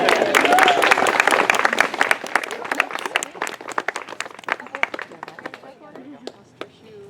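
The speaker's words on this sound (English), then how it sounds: "You may clap." Wedding guests at the ceremony clap for the newly joined couple, a loud burst of applause that thins out into scattered, individual claps as it fades, with faint voices near the end.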